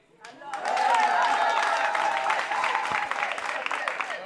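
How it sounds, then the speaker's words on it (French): Crowd applause at a gathering of a women mayors' association in Nkongsamba, Cameroon, swelling quickly into dense clapping with cheering voices and ululation over it, then easing slightly. "Applaudis."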